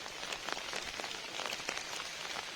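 Heavy rain falls at night as a steady, dense hiss of drops pattering on surfaces. It sounds soft and distant, with no voices over it.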